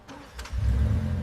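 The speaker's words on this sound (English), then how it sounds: "Engine stable at idle." A rebuilt Bugatti Chiron's engine settles into a deep, steady idle rumble, fairly loud and close, rising in after a brief click.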